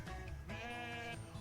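A sheep gives one clear, wavering bleat partway through, close and fairly loud against a quiet background.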